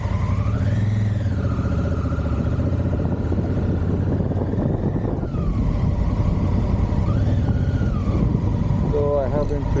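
A motorcycle engine drones steadily at the start of a long ride from Dallas to Oregon, a loud continuous hum with the pitch rising and falling as the rider shifts, sustained throughout.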